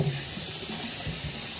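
A kitchen tap runs hot water into a sink to thaw a chicken, giving a steady close hiss and splash that continues alone without pause.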